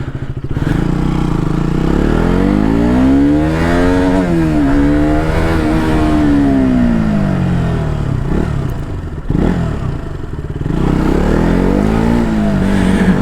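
A KTM motorcycle engine drones loud and close while riding, its pitch rising and falling steadily through throttle changes, with a brief dip and a clattering break partway through.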